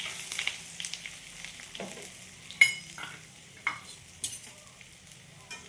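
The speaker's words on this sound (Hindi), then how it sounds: "इसे हम हल्के हाथों से मिलाते हुए अच्छे से फ्राई कर लेते हैं।" Jowar and cabbage muthiya fry in oil with cumin seeds and curry leaves, a soft steady sizzle broken by the scrape and clink of a spoon stirring the pan, up close with no talking.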